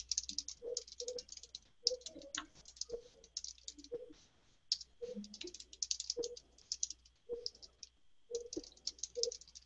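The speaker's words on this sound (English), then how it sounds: "I'll type it." Quiet, close typing on a computer keyboard, irregular bursts of crisp key clicks broken by short pauses, with no talking.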